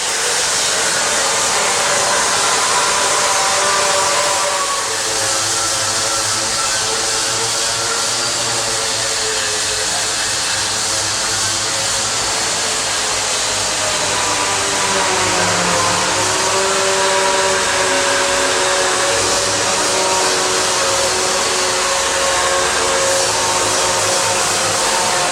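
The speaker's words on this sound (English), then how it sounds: "What we just saw is a very easy weld beam removal. Much faster, almost spark-free" A Metabo weld shaver removes a weld seam from metal, producing a loud, steady, close-up whirring grind that holds unbroken for the whole stretch, with no speech.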